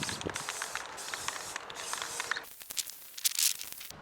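Aerosol spray paint coats Yamaha S4115H speaker parts black in short hissing bursts, close by, broken by brief pauses and faint handling noise.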